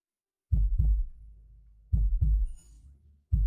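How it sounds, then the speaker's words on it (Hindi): A heartbeat sound effect thumps in deep, close double beats, three paired lub-dub pulses spaced evenly with silence between them. "मेरे दिल की धड़कन"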